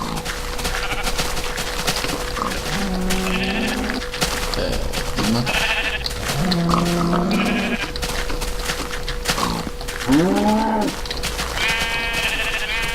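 Several sheep bleat repeatedly in Minecraft over a steady background hum, the calls close and overlapping, with brief pauses between them.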